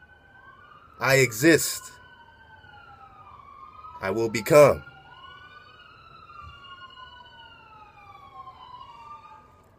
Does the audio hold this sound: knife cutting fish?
no